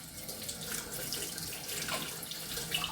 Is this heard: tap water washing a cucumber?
yes